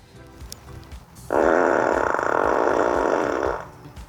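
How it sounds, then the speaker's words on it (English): A Tesla Model Y plays its fart sound effect, triggered from the remote: one loud, sustained, buzzy blast lasting about two seconds after a quiet start, then fading out. "That was the car expelling a fart, and that is a dedicated button on the remote for this car."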